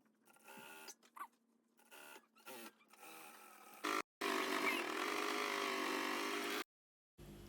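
A sewing machine stitches the side and sleeve seam of a dress, running in several short bursts and then one long steady run of close, loud mechanical whirring, with brief pauses between bursts.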